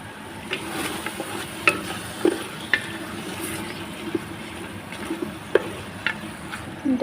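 Washed, chopped meat goes into a hot pan while cooking a stew with tomato salsa, giving a soft, steady sizzle with scattered clicks and stirring scrapes, fairly close and moderately quiet, with no talking.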